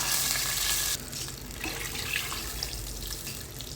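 Water pours into a cooking pot for ghee rice, with a steady splashing gush for about a second before it stops, leaving a quiet kitchen background.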